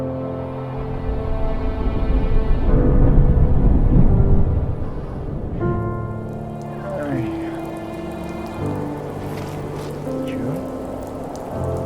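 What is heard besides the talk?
rain falling in the video game The First Tree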